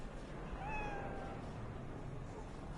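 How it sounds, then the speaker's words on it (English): A cat in the video game Cyberpunk 2077 gives one soft, brief vocal sound over a steady low game-world ambience, with no talking. "Hear that little purr."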